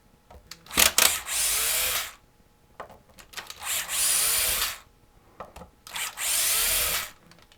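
A power drill runs in three loud, steady bursts of about a second each as it backs the neck bolts out of a Fender guitar. Short clicks and handling noises fall between the bursts.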